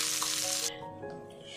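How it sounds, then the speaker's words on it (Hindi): Brief sharp sizzle as hot tempering oil hits a bowl of dahi phulki, a bright hiss lasting under a second, then fading into quieter kitchen sounds. "तो दही फुल्की हमारी रेडी है, हम इसके ऊपर तड़का मारेंगे।"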